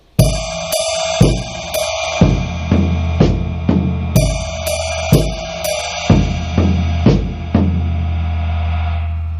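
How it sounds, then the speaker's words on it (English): A drum kit pounds out a steady rock beat on the floor tom, with heavy booming tom hits and crashing cymbals, loud and close. "on the floor tom and playing a rock beat"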